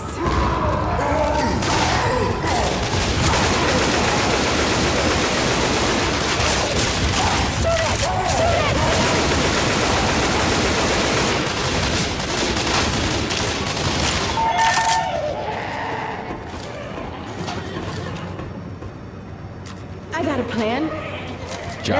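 Survivors' guns fire in Left 4 Dead 2 on an Expert-difficulty round, with dense rapid fusillades and continuous gunfire crowding the first fifteen seconds before thinning out. Players' voices shout over the shooting.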